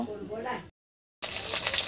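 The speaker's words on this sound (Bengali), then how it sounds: "ভাজা হচ্ছে মাছ।" Fish frying in a pan gives a bright, crackling sizzle close by, with a voice over the first half before a brief silent break, then the sizzle returns.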